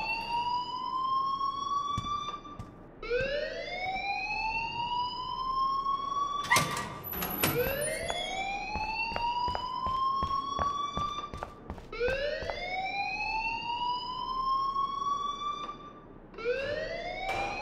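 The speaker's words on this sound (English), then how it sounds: "please turn off that alarm" Fire alarm ringing inside a school in the Life Is Strange video game: loud repeating rising electronic wails, about four cycles, with sharp clicks and a brief high beep partway through, no talking.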